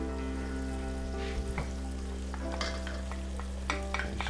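Wooden utensil stirring mussels in curry cream in a hot pan, with a steady sizzle of frying underneath and a few scraping, clattering strokes against the pan, close and fairly quiet, no talking.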